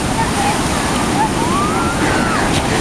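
Indian Ocean surf breaking on a beach, a loud continuous roar of waves and wash with wind buffeting the microphone throughout.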